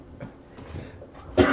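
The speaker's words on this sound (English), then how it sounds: "Apologize for the coughing in advance." A single throaty cough bursts out near the end, loud and close, after a few seconds of quiet rustling.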